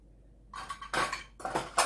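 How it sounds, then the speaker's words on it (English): Utensil scraping and clinking against a slow cooker pot as mixed herbs, oregano and garlic powder are mixed into tomatoes, coming in three short bursts of clatter, close and fairly quiet. "give that a little bit of a mix round"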